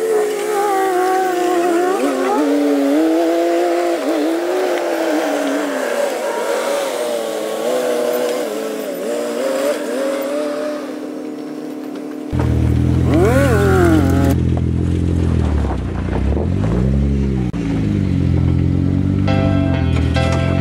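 A vehicle engine revs and strains as it drives its rear tire up and over an obstacle on an off-road ridge course, loud and close, with the pitch rising and falling through sustained acceleration.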